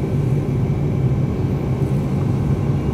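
A DHC-8-200 turboprop airliner of Oriental Air Bridge starts its engines, heard from inside as a loud, steady, deep droning rumble with a constant hum that fills the whole moment.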